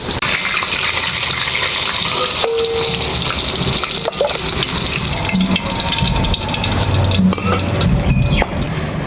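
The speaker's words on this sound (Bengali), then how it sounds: "আমার মাছ ভাজা হয়ে গেছে, নামিয়ে নিচ্ছি" Fish sizzles in hot oil in a pan for a restaurant-style mrigal curry, a steady dense crackle running throughout with a few scraping, stirring sounds mixed in.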